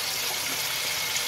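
Water streams steadily from a tap while a small rescued kitten is bathed, a bright, constant splashing hiss with no pauses.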